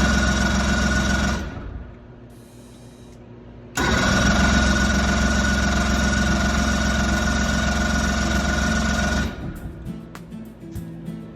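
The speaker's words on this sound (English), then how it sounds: "This was the first start of the engine." The engine of a restored 1969 MFG Edinboro boat starts up and idles with a loud, steady rumble, briefly dips, roars back, then cuts out near the end.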